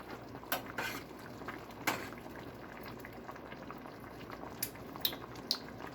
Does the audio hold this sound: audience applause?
no